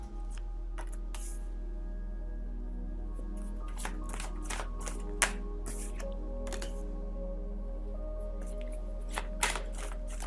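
Tarot cards handled and laid out on a table, with soft repeated shuffling, flicking and slapping sounds scattered across the stretch over a steady low hum, no talking.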